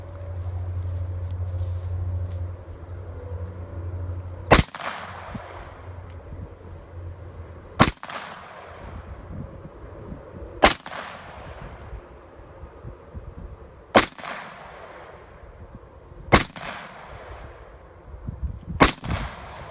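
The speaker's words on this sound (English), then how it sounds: "So we're going to load these up in my 357 right now and do a little target shooting." Six loud, sharp gunshots from a .357 revolver during outdoor target shooting, spaced a few seconds apart, each with a trailing echo and quiet handling noise between shots.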